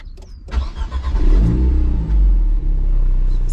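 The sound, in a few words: sports car engine revving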